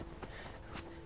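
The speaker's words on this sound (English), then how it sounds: "Oh my God, that horse is up here." Horse hooves clip-clop faintly in the video game Skyrim, two soft muffled footfalls over a steady background hum.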